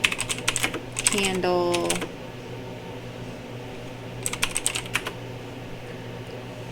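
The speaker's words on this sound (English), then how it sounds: "I'm going just to type in sticker" Computer keyboard typing while entering a search term in an online graphic design tool, two short bursts of quick clicking keystrokes, close and clear, with a short stretch of speech and a steady low hum underneath.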